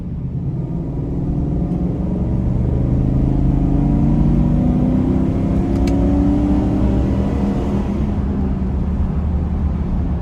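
A 2021 Explorer Chevrolet Express 2500 conversion van accelerates hard from 20 mph, heard from inside the cabin as a loud, steady engine roar whose droning pitch climbs gradually over several seconds.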